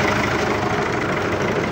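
A tractor engine runs close by in a steady, rumbling idle, continuous and loud throughout with no pauses.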